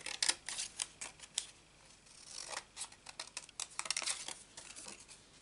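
Scissors snipping paper in a Stampin' Up card-making project, a quick run of close, crisp cuts in irregular bursts, fairly quiet, with no voice over them.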